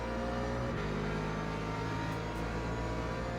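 Race cars pulling away from the start in the video game Le Mans Ultimate, a steady droning engine roar with a shift in pitch early on, held at a constant level with no talk.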